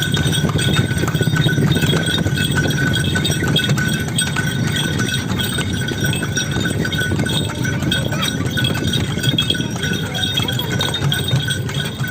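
Horse pulling an andong carriage, its hooves clip-clopping in a steady rhythm under constant road and traffic noise, close by with no speech.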